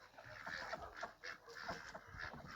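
A farmyard duck squawks repeatedly while three drakes mount her, loud harsh honking calls in quick irregular bursts close by.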